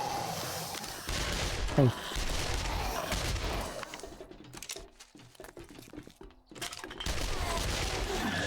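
SMG gunfire in the survival game 7 Days to Die, with rapid bursts of shots and scattered impacts, moderately loud amid game ambience, and a brief spoken word.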